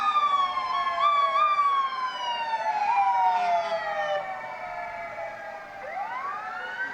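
Emergency siren from an ambulance rolling in an Independence Day parade in a village, a loud rising and falling wail sweeping steadily and close by, with a second siren tone joining near the end.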